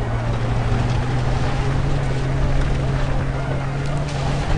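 Car engine droning steadily while driving in the shooter Far Cry 3, a loud close constant motor hum with rushing wind noise and no breaks.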